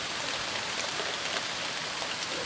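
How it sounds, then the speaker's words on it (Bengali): Rain falls steadily on a rural spot with trees and a river nearby, a dense, even hiss of drops that holds unchanged and fairly loud throughout, with no voices. "দেখুন কত সুন্দর করে বৃষ্টি পড়ে আজকে।"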